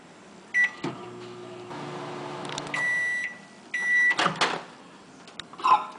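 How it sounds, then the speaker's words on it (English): A microwave oven runs while melting about two cups of semi-sweet chocolate chips, giving a steady hum with door clunks and a few sharp beeps, including a closing series of tones. "you're going to take about 2 cups of semi-sweet chocolate chips and you're going to put them in the microwave."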